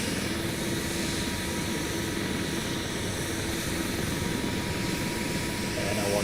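UH-60M Black Hawk helicopter in X-Plane 12, a continuous dense rotor and turbine roar with a low throbbing undertone, steady and loud from start to finish with no talk.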